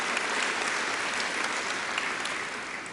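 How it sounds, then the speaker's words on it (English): An audience claps in a full round of applause at a public event, a dense and steady wash of many hands for about three seconds that tapers slightly at the end. "So I'd like to give Alan and the Economic Development Council a round of applause."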